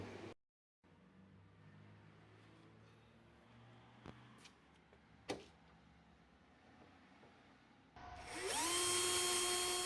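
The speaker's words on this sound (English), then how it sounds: "I'm just drilling the fiberglass that covered the hole out so the shelf support can fit in." After quiet background and a couple of taps, a power drill starts up near the end, whining loudly as it bores through fiberglass on a refrigeration inner door panel.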